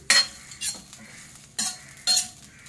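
Grated coconut roasting in a pan for kharda chicken, with dry stirring scrapes of a spatula coming in four short bursts at uneven gaps, close and fairly loud with a faint sizzle between strokes.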